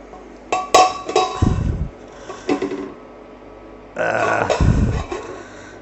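A metal lid goes onto a cooking pot while a wooden spoon holds it in place, making a few sharp clanks and clinks in two separate bursts, close up, while a clootie dumpling is being boiled.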